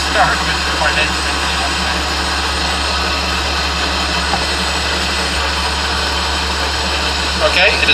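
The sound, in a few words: tank turbine engine running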